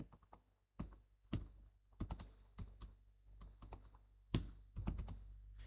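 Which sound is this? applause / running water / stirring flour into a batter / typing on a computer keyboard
typing on a computer keyboard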